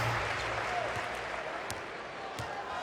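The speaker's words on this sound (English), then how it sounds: "Tony Parker hears the applause after that shot, and now he takes the seat" A basketball arena crowd at the Eurobasket 2015 third-place game between France and Serbia applauds in a steady, broad wash of noise, with a few sharp thuds in it.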